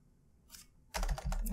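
Typing on a computer keyboard while designing a website, a faint brief tap followed by a quick, louder cluster of close key presses.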